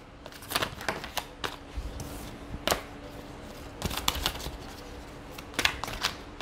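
Deck of tarot cards shuffled by hand, close and quiet, with soft papery riffles and scattered crisp snaps over several seconds and no voice.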